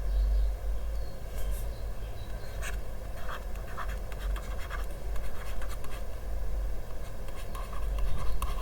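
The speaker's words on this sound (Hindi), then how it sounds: "ओहो, पेन ले ले, पहले हम लिख देते हैं।" A pen scratches across paper in short strokes and bursts while notes on ocean currents are written down, close and fairly quiet over a low steady background hum.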